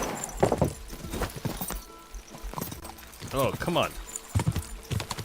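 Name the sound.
horse galloping in video game Kingdom Come Deliverance 2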